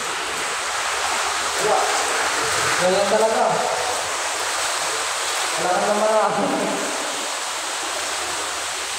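Torrential typhoon downpour in Bacnotan, La Union, a dense unbroken hiss and roar of rain close by, with voices speaking through it.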